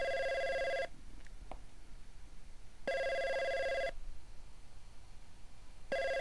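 Phone ringing in the game Rhythm Heaven: a clean electronic ring in repeated bursts of about a second, separated by roughly two-second pauses, close and clear with no talk.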